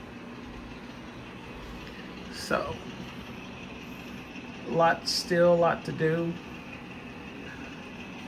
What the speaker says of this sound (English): As long as I got the trains running so I can do some switching, that's all that matters.